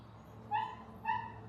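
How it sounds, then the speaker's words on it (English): Dogs barking indoors at home, two short, clear barks about half a second apart, fairly close and alone with no talking. "Why are they barking?"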